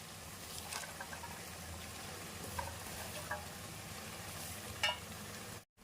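Chopped sorrel leaves sizzle and fry in a pan of onion curry, a steady soft crackling hiss with occasional light stirring scrapes, close and quiet, cutting off abruptly at the end.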